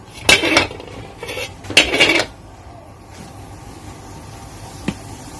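A metal wok and utensils clatter in two loud bursts close by while preparing to stir-fry mixed vegetables with pork, then a quieter stretch with one final sharp clink.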